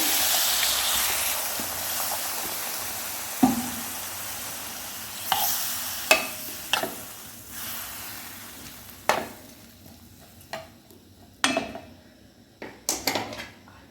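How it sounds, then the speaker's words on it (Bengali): Rohu fish and potato curry sizzles in a pan as water goes in, a soft hiss fading under scattered spoon and pot clinks and scrapes, close and fairly quiet. "এবার একটু জল দিয়ে দেবো।"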